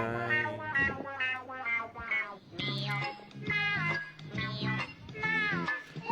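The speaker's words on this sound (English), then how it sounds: "That's such a nice kitty." A pet cat meows repeatedly in a string of drawn-out, tonal cries, fairly close and moderately loud, with no talking over them.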